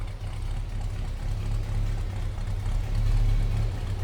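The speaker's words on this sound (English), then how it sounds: "Little rumble coming out of that 350." A 1968 Pontiac Firebird convertible's 350 V8 idles low and steady nearby, a soft constant deep rumble with a slight rise toward the end, no voices over it.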